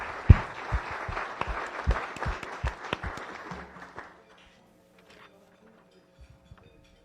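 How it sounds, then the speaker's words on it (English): Audience applause at a weekly Rotary Club meeting in Las Vegas, a burst of clapping with distinct individual claps that fades out after about four seconds, leaving near silence. "Please join me for a round of applause for all of our visitors and guests."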